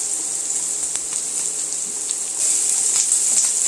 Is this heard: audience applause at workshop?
no